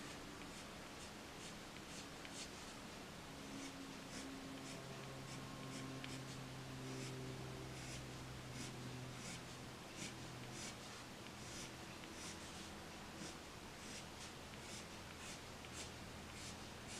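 Sharp pencil flicking out strands of hair in a drawing on paper, a quick, light run of scratchy strokes that repeats steadily, close up and fairly faint, with no one talking.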